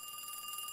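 A telephone rings for an incoming call in a video game, a continuous bright electronic trill that is steady and fairly loud for the whole moment, with no talk.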